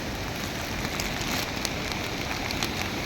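Rain-swollen water pours down Nalda waterfall in the Ratan Mahal hills after the first heavy rain, a dense, steady rushing hiss filling the scene without pause.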